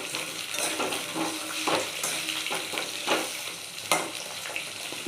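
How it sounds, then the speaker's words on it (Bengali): Potatoes fry in a pan, giving a steady crackling sizzle broken by repeated scraping stirs of a utensil, all close and alone with no talking. "আলু ভাজা হচ্ছে।"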